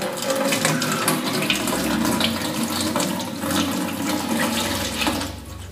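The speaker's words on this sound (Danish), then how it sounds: "Når jeg hælder vand på møllen, så begynder den at dreje rundt." Water poured onto a small water wheel mill makes a continuous, loud rushing splash that stays steady and close throughout.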